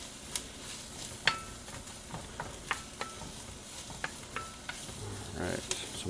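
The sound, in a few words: onions cooking in a pot for chili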